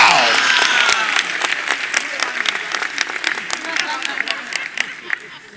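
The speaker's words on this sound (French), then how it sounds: "Acclamez pour la définition" Audience applause after a definition is read out at a community gathering in Mampong, Ghana, loud clapping from many hands sustained throughout with crowd murmur mixed in.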